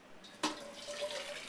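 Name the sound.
hot water draining from boiled spinach into a pot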